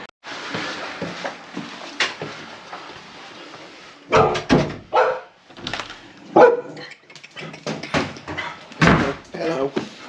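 Someone's gun dogs barking in short, loud bursts close by, several sharp barks grouped in the second half, mixed with speech and a door-like knock.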